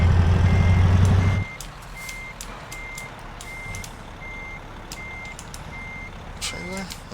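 A truck in American Truck Simulator backs up with a steady run of evenly spaced reversing beeps after a loud engine rumble cuts off, the beeps clear and regular over a low idle, with someone talking briefly.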